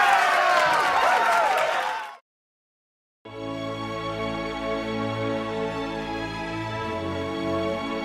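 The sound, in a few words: sheep applauding in a cartoon story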